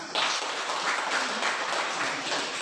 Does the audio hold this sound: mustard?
no